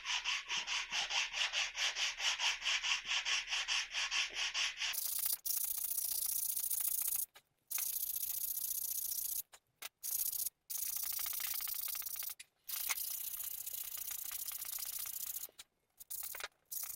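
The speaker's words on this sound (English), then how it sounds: "I'm just going to use some 120 grit sandpaper and just a contour sanding block" Steady, rapid scratchy rubbing of 120 grit sandpaper on a contour sanding block against a wooden table leg, back and forth in continuous strokes with a few brief pauses.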